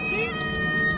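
A cat meows repeatedly at close range in a continuous, drawn-out call, with voices talking alongside it.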